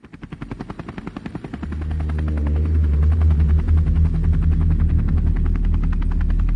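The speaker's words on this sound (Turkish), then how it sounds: "polis oraya daha hızlı ulaşmak için bir helikopter kullandı" A helicopter sound effect: rapid rotor chop pulses start alone and quickly swell into a loud, steady, close whirring drone.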